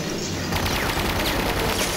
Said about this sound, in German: und diese Kerle, die schießen auf mich, weil sie mich töten wollen